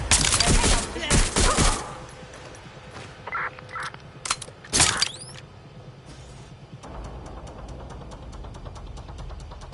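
Bursts of video game gunfire from Watch Dogs, a dense volley early on and another sharp burst midway, loud and close, with quieter mechanical clicks between them.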